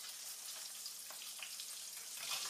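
Gozleme, a stuffed Turkish flatbread, sizzles and spits steadily in hot oil in a pan, a continuous close frying hiss that swells slightly near the end, with no talk.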